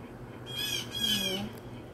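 Bluebirds squawking in alarm after a hawk dives on and kills a squirrel at a coastal beach trail, a burst of harsh repeated calls over about a second, fairly close, with no talk.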